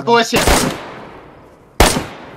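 Gunfire in the survival video game DayZ: two sharp, loud bursts, the first just after a short voice and rolling off in a long echoing tail, the second striking abruptly near the end.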